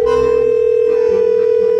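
A steady single-pitched phone tone plays loud and unbroken on loudspeaker while a call is placed to Granny in a horror game short film, with no talk over it.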